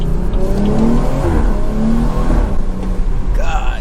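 BMW 340i B58 engine with catless downpipe revving and droning loudly up close, pitch rising and falling with throttle, with a brief whine near the end.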